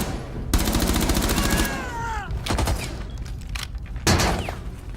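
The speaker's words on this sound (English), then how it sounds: "I just keep firing because people will assume you're going to stop firing" Sustained automatic gunfire from the video game Rainbow Six Siege, rapid loud bursts with rattling echoes and pauses, a fresh burst near the end, along with game sound effects.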